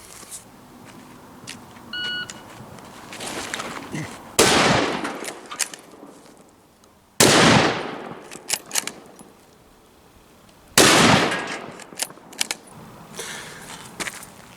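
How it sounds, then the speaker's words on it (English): Three loud rifle shots fired from a supine firing position on a rifle fitted with a scout scope, each a sharp blast at roughly three-second intervals with a decaying tail, plus small clicks and handling noises in between. "Next, we're going to see if the supine firing position is superior to the rollover fetal position."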